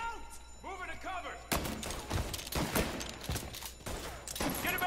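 Rapid bursts of gunfire from a firearm in the game Mafia: Definitive Edition, loud and close, with sharp repeated shots and thuds over a dense, chaotic background.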